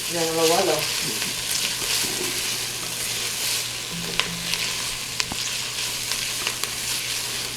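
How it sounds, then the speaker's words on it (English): Garlic frying in a pot for roasted tomato basil soup, a continuous loud sizzle with occasional light clicks and scrapes as it is stirred into the other ingredients, with a brief hum near the start and no talk. "When you smell the garlic, mix it up and incorporate in the rest of the ingredients."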